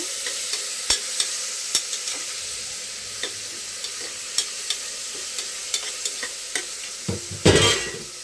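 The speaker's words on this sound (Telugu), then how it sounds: "అందుకని టమోటాలు టమోటాలు బాగా ఫ్రై అయిపోవాలి" Tomatoes fry in a pan with a soft, constant sizzle, while a spoon scrapes and taps against the pan in regular strokes, then a louder stir near the end.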